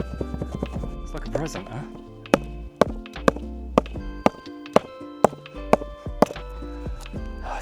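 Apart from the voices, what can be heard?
mallet hitting an aluminum foil ball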